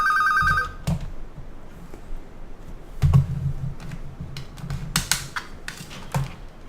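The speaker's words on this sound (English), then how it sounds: "calling me on my phone during an LP?" A phone rings briefly at the start with an electronic trill, followed by scattered clicks of keyboard typing and mouse use, with a faint low background hum.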